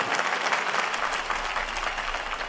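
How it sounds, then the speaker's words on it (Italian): A crowd outdoors at an Easter gathering with the Pope applauds in a continuous, even wash of clapping, moderately distant and without speech. "e un applauso fuori"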